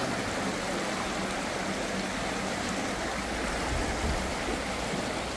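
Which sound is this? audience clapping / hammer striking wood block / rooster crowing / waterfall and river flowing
waterfall and river flowing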